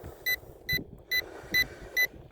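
Five evenly spaced high electronic beeps from a drone remote controller warning of weak signal during a range test, about half a second apart, over a low rumbling background of wind and outdoor noise.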